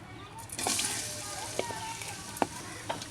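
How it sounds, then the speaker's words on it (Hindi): Finely chopped onion frying in hot oil, a soft steady sizzle with occasional stirring scrapes and light taps, while someone talks over it. "इत्थे हुण प्याज नूं अच्छी तरह फ्राई करना है"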